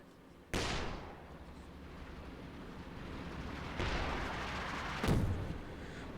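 Land Mattress rocket artillery strikes in Company of Heroes 2, three heavy booming impacts that each roll into a long rumbling wash, at moderate distance with no talk over them.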